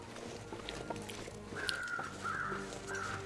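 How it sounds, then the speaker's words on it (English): Crows in the video game The Long Dark caw in a snowy canyon, three drawn-out harsh calls at moderate distance over a low ambient wind bed. "I can hear the crows."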